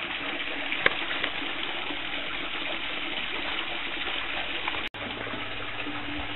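Mineral spring water pumped into a pool at Ojo Caliente hot springs, a continuous soft gushing flow that stays even and moderately distant, with a single sharp click near the end.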